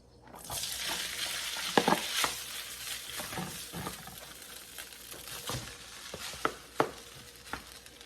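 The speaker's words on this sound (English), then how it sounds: "So my rice has been cooking a bit in the wok. I've been constantly stirring it." Rice stir-fried in a wok, stirred constantly, sizzles steadily up close, with scraping and clattering spatula strikes that grow sharper toward the end.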